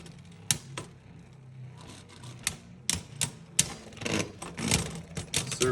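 Beyblade tops, including Gatling Dragon, clatter and knock together in a stadium. Sharp clicks and rattling hits come in an irregular series, growing denser toward the end.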